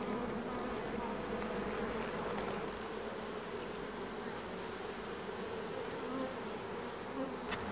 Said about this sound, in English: With bees gorging like mad.